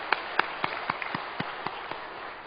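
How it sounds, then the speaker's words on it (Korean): A church congregation claps in praise during a Friday service, with a steady rhythmic beat of about four claps per second, moderately loud and without voices. "박수로 하나님께 영광입니다."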